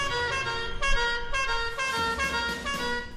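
A car horn sounds in a few loud, sustained honks with short breaks between them, close by and steady over low rumbling background noise.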